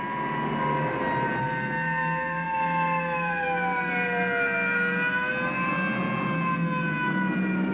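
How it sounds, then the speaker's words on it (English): Wailing police sirens from a 1954 film rise and fall continuously, several overlapping tones sweeping up and down, loud and steady without pause. "You couldn't possibly be surprised with all those sirens blasting."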